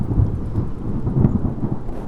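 Thunder rumbles low and steady in stormy weather in Mustang, Nepal, a dense, loud roll that swells and fades, blended with rain and gusting wind and with no voices.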